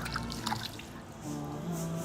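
Water from a tap splashes and drips over hands rinsed for wudu, a soft, close trickle with light patters through the short stretch.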